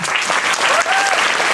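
Audience at an award ceremony for bloggers bursts into loud, dense applause, a close, sustained wash of clapping from a large crowd.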